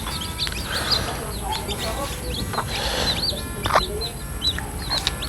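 Chickens clucking with high peeping chicks nearby, a busy flock chorus with a voice murmuring underneath.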